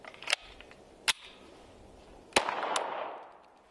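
A Sig Sauer P322 .22 pistol firing, with a few sharp isolated shots and metallic clicks spaced apart, fairly close, with a light primer strike among them and a brief hiss trailing after one report; no talking.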